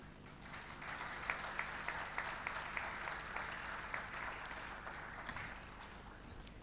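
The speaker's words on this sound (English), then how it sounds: "A big round of applause." Sustained applause from a large audience at a 2021-22 graduation and convocation ceremony, a dense steady wash of clapping with scattered sharper claps standing out, continuous throughout.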